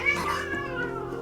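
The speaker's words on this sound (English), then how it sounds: "Crazy cats actually roughhousing." Cats, including a kitten, meow and caterwaul while roughhousing, a loud close yowl with wavering pitch that trails off, no talk.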